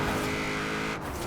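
A powerful car engine in a racing video game drones at high revs, loud and sustained, with a brief dip in pitch near the end as if shifting or easing off.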